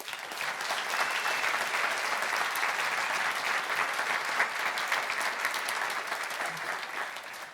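An audience applauds students receiving academic certificates and honor roll awards at a school awards ceremony in a Baptist church, the clapping steady and dense from start to finish at a moderate, slightly distant level.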